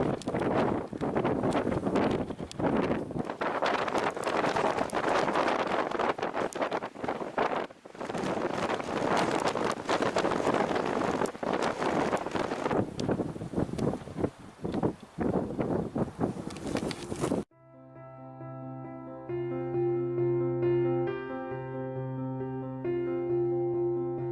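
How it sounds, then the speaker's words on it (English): Heavy wind on Tryfan's Northern Ridge in Snowdonia buffets the microphone in loud, gusty rumbles, then abruptly cuts to calm, steady music. "Sorry for any wind."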